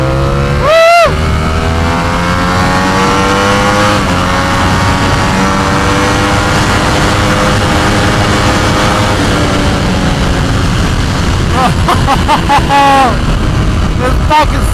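A Yamaha R9 sport bike engine roars close and loud, its pitch climbing as it accelerates hard at the start and again near the end, with a steady drone and rushing wind in between.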